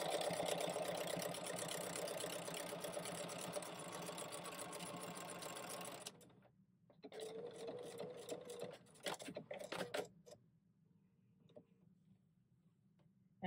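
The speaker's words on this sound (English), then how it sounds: "And then I would just sew it down." A sewing machine stitches quilt-style binding onto a tote bag, running in a steady continuous whir for several seconds, then stopping and restarting in short bursts before falling quiet.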